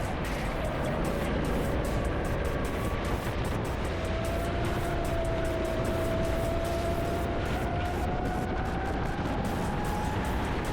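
A racing kart engine on a qualifying lap at a Catalonia karting track drones continuously, its pitch rising and falling with throttle, loud and close, with wind rush and no talk.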